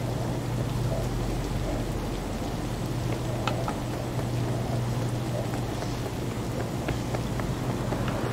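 Steady rain hisses and patters across a city scene in Cyberpunk 2077, a constant moderate downpour with a low rumbling hum underneath and scattered sharper drop ticks, no talk.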